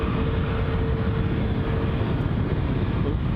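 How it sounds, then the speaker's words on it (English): Distant Cessna 172 Skyhawk light aircraft droning steadily across the far side of Glasgow International Airport, a continuous low engine rumble with a faint steady tone, heard alone without talk. "there's a light aircraft, a Cessna"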